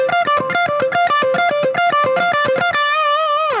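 A distorted electric guitar alternate-picks a fast, repeating three-note pentatonic pattern in a steady rhythm, ending on a held, wavering note. Loud and close, no voices.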